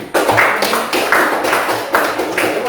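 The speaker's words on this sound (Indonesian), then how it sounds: "Tepuk tangan lagi." An audience claps in a classroom or presentation setting, a few rhythmic bursts of hand claps repeating across the clip, fairly close and loud.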